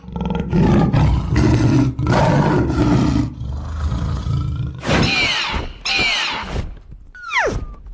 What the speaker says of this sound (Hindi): मुझे तो यहाँ बाघ के गुर्राने की आवाजें सुनाई दे रही है।